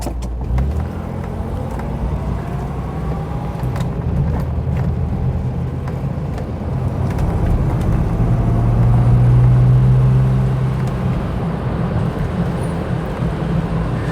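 A 1970s Ford Granada MK1 cruises along with a steady, low engine drone and road rumble. The hum swells a little midway and then settles, with no voices.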